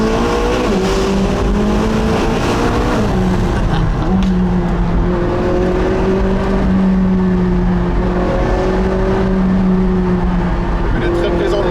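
McLaren 675 LT Spider accelerating hard, a loud, close engine with rising and falling revs as it shifts through gears, sustained throughout with people talking over it.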